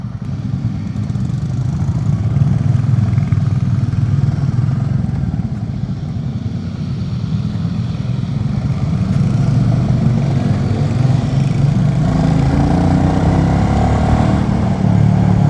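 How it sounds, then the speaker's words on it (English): A Royal Enfield Classic 350 single-cylinder motorcycle on a demo-day test ride, its engine thrumming loud and steady at close range with a continuous low rumble and gentle shifts in revs throughout. "I'm going to be riding this bike like it's not designed to be ridden"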